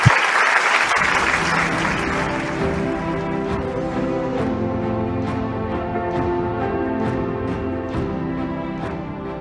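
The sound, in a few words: audience applause welcoming F.W. de Klerk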